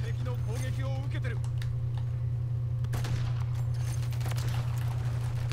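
SPX rifle fire in Call of Duty MW3 cracks out in sharp shots over a constant low game hum, with someone talking through the gameplay.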